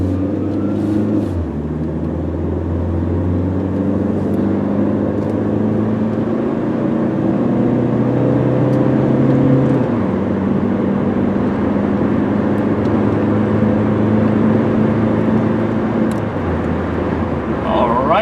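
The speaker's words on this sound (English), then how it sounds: "Alright, and there we go, all the way up to 50 miles an hour, no problem." A 2003 Kia Rio drives and accelerates on the road up to about 50 mph, a steady engine hum with rising pitch and road noise heard from inside the cabin, with talk over it.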